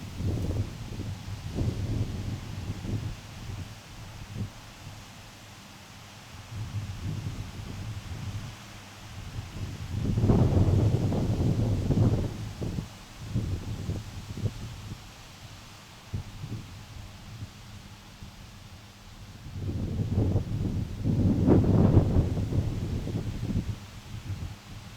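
Breezy night wind sweeps across open fields, a low rumbling buffet that swells into two stronger gusts and then eases back to a softer, steady rush.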